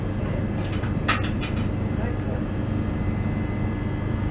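A ScotRail train near Falkirk High station gives a continuous low rumble of wheels and motors, steady and fairly close, with faint higher squeals briefly rising over it.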